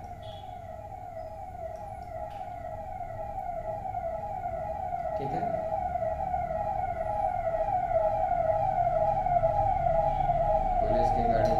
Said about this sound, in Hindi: पुलिस की गाड़ी जा रही है।